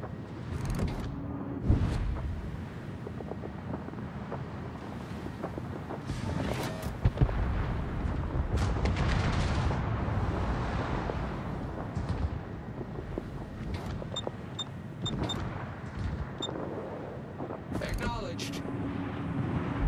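Yamato battleship main guns firing in World of Warships, heavy booming salvos rolling under a dense, continuous wash of naval combat noise, with a spoken voice cutting in and out throughout.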